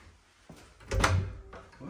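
A hotel room connecting door in a Zermatt hotel is pulled open, a short muffled knock followed by a louder rush of latch and door movement that fades out, with no talking.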